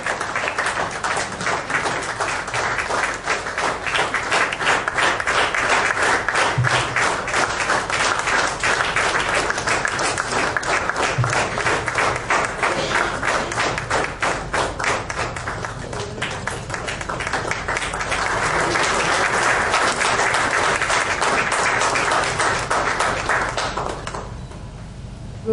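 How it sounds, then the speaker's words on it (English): An audience at a Rotary Club meeting in Kandivali West, Mumbai, applauds a guest being welcomed on stage. The clapping is dense and sustained for about twenty-five seconds, swells twice, then fades out. "request you all to join me in welcoming him with a loud round of applause and a standing ovation"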